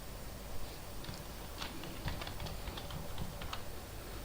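Quiet, irregular clicks of a computer keyboard as a Wi-Fi router password is typed in, with small bursts of keystrokes over a steady background hiss.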